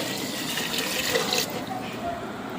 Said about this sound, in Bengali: এবার জল দিয়ে দিচ্ছি পরিমাণ মতো।